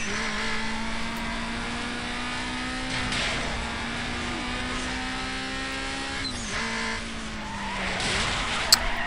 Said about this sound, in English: Oh, spin out there, that wasn't good.